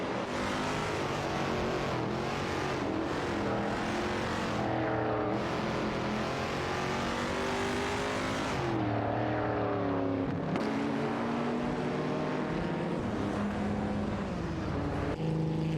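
Race car engines, among them a Ford Mustang Boss 302, in an AI racing video game: several overlapping engine drones rise and fall in pitch as the cars change gear and jostle for position, a steady, loud, continuous roar throughout.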